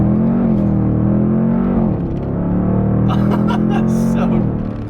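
Engine of a 2021 Dodge Durango SRT 392 pulling in first gear from around 3,000 RPM, a loud steady drone that dips briefly then holds again, with a voice talking over it.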